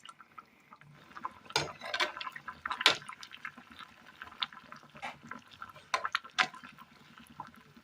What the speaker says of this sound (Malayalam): ഇതിലേക്ക് ഒരൽപ്പം വാളംപുളി പിഴിഞ്ഞ വെള്ളം ഒഴിച്ചു കൊടുക്കാം.